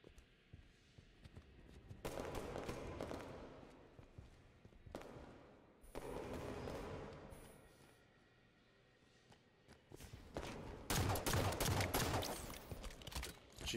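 Pistol gunfire in Halo 5 Guardians, bursts of rapid shots firing at long range in a SWAT match, clustered volleys separated by short lulls, moderately loud.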